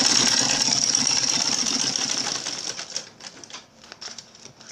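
A sewing machine stitching laptop backpack fabric runs in a steady, fast, buzzing whir for about three seconds, then breaks into short uneven bursts as it slows and stops, close and fairly loud, with no talk.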